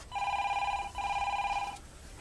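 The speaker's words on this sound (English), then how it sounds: "I was going to answer the phone. Is anyone getting that?" A telephone bell rings indoors in two long steady bursts with a short gap between them, then cuts off, loud and close with no talk over it.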